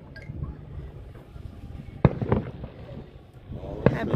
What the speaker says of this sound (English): We're at Pachanga Casino watching fireworks.